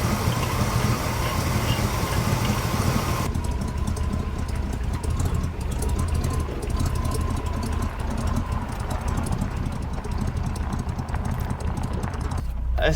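A go-kart engine running steadily, its rough, pulsing drone louder at the start before dropping back to a quieter, continuous run.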